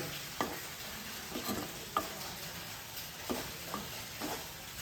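Squid frying in oil in a pan as it is stirred, a steady sizzle broken by a handful of sharp scraping strokes roughly every second or so, close and fairly quiet, with no voices.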